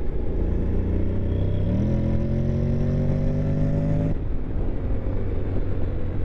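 A 2021 Honda X-ADV 750 in sport mode accelerates through bends, its engine tone climbing steadily for a few seconds under wind rush before abruptly easing off to a lower hum.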